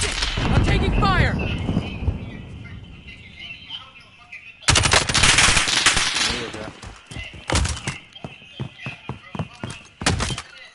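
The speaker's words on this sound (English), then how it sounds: "I'm taking fire." Machine gun fire in a Call of Duty game, with rapid bursts of automatic gunshots mixed with thumps and other battle noise, while players talk over the action.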